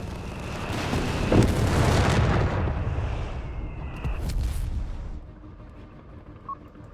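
Wartime battle in Company of Heroes 3, with artillery and machine-gun fire as German forces attack a Matilda tank: loud, rumbling booms and bursts that roll together for about five seconds, then drop to a quieter background with one faint late pop.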